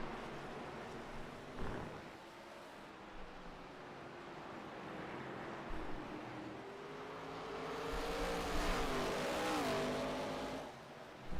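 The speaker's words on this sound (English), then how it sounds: "You hear those beautiful engines rumbling on that wall cam." Distant race car engines rumble and rise in pitch as the cars pass a wall camera, growing louder toward the end before fading slightly.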